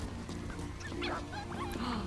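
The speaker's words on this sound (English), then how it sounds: "KPCHM, I totally understand dogs going boof." A dog barks and yips in short bursts with a brief whimper, set against a low droning background.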